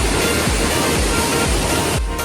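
Water pours over Maaglu Falls in the rainy season, a loud, dense, continuous roar heard up close, with nothing else breaking through.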